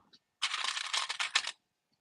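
A sewing clip snapped onto fabric at the end of a zipper for a beauty bag, heard as a short, busy burst of clicking and rustling about a second long, close and alone, after a tiny click.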